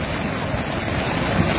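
Floodwater rushes in a river during a violent storm in the Sapna and Kalesija area, a steady, loud, broadband roar with no break.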